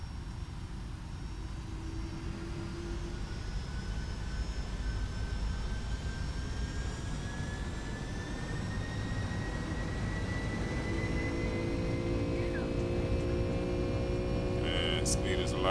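Boeing 757 airliner engines in the X-Plane 12 flight simulator spool up for takeoff, a steady loud roar with rising whining tones building over about fifteen seconds, with a voice speaking over it.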